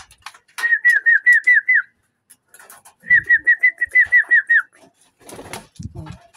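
Pigeons on a rooftop give repeated cooing whistle calls, loud and close, in two bursts of rapid pulsed notes with a short pause between them and faint rustling near the end.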